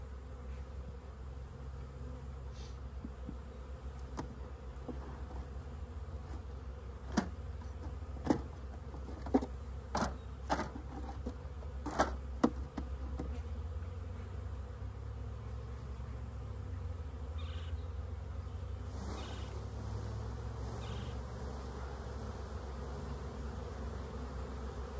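Honey bees buzz steadily around comb in an open hive, a continuous low drone with a few sharper clicks and taps partway through and no voices.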